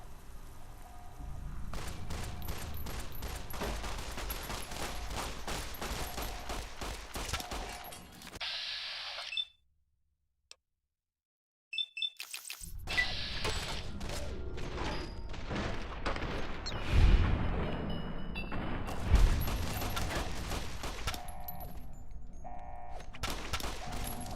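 Repeated gunfire in the video game Fallout: New California, with dense bursts of shots in a loud firefight, a brief silent break, then more shooting with a couple of heavier booms.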